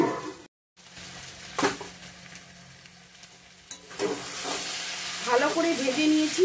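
Chicken curry with potato chunks fries in a pan, quiet at first with a few stirring scrapes, then building into a louder, crackling sizzle as it is stirred; close-up, with no talking.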